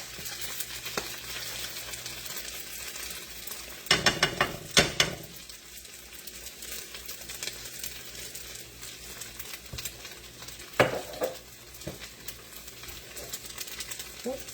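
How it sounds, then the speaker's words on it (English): Alfredo sauce pours into a pan of sweet Italian sausages, sizzling and bubbling steadily with a few louder clattering stirs and scrapes, close and moderately loud. "And now we adding Alfredo sauce."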